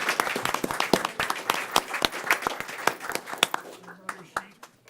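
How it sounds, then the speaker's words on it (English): Audience at a children's safety event claps for the performers, a dense burst of close, sharp handclaps that thins out toward the end, with a voice talking faintly over it. "Let's give them a round of applause."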